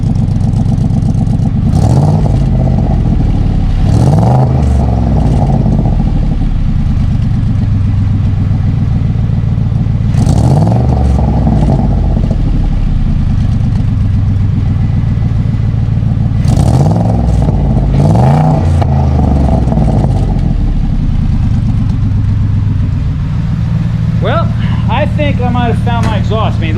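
A Ford Coyote engine in a Cobra Daytona replica runs cold through a new exhaust, its loud, lumpy idle swelling into repeated rev sweeps every several seconds, close up.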